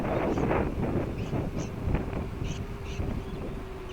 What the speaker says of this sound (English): So it's a fairly windy day.